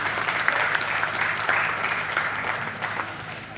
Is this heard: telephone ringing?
no